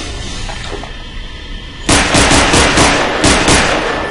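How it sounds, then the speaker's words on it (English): Submachine gun fire in Half-Life 2 kicks in abruptly after a quiet stretch, a loud rattling string of shots repeated in short clusters. "The default Half-Life 2 firing sound for the SMG doesn't really fit with this"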